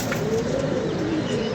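Pigeons in a loft cooing softly, a brief low murmur of overlapping coos held at an even level, near and unbroken, without speech.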